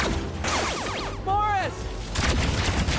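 Cartoon gunfire in a 2D animated short, a rapid volley of shots mixed with other effects and overlapping character voices.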